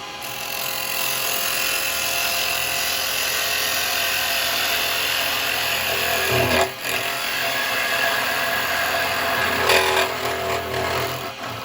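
Carbide tool cutting a spalted beech lidded box blank spinning on a wood lathe, a steady close broadband scraping hiss over the motor hum, with brief dips and surges as the cut changes.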